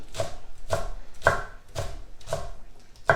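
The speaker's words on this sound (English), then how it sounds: "Let me just give this lettuce a little bit of a chop" A knife chops lettuce on a cutting board with about six crisp, evenly spaced strokes, close and fairly loud with no voices.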